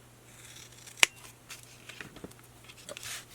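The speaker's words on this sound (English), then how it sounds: "cut off that piece and then go to the other side and cut this off" Scissors make one sharp, close snip through a stack of same-size paper pieces for a purple junk journal page, with faint rustling and handling sounds after it in a quiet room.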